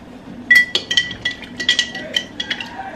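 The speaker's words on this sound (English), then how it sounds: "And stir it up." A spoon stirring lemonade clinks repeatedly against a glass in quick, uneven taps, light and close, with faint room noise underneath.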